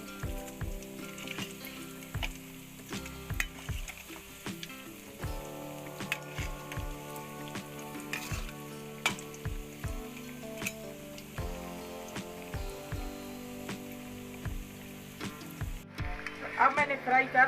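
Bottle gourd (lauki) kebabs shallow-frying in a pan give off a soft, steady sizzle studded with irregular crackles and pops, like light rain on a surface.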